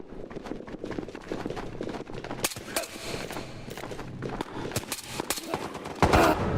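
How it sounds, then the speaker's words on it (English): A player's gun firing in the VR shooter Ghosts of Tabor: sharp bursts and single shots crack out irregularly, fairly near and loud, with footsteps and movement between them. "That sounds like a player gun."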